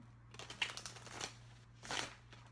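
Tarot cards shuffled by hand in two quiet, brief bursts of papery riffling and flicking over a low steady hum, faint and close, with no talking.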